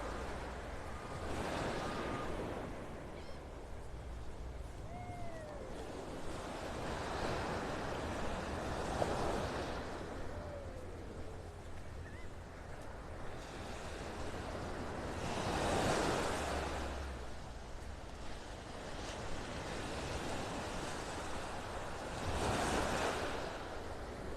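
Ocean waves at the south end of Vanderbilt Beach in North Naples, Florida, surf rolling in and breaking in slow repeated swells, each rush rising and fading, with steady wind buffeting the microphone throughout.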